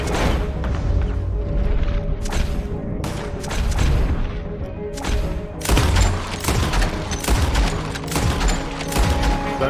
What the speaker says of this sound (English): Did I just shoot the rock all those times?